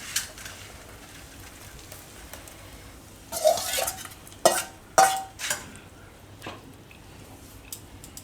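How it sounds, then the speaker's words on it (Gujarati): Spice mix is stirred into puffed rice (mamra) for a panipuri-flavour snack, giving a few soft rustling, scraping bursts of mixing in a quiet kitchen, separated by pauses. "આ રીતે મિક્સ કરી દેવાનું આપણે બધું. તો આને આપણે હવે મમરામાં નાખી દેવું."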